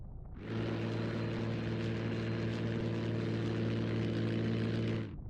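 A Spitfire's propeller engine roars in Scramble: The Battle of Britain, a steady, loud drone with strong low harmonics that starts abruptly, holds for about four and a half seconds, then cuts off, with no talk over it.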